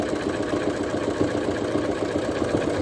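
A sewing machine runs steadily while top stitching a fabric face mask, producing a continuous mechanical whirring hum with a fine rapid chatter, fairly close and unbroken.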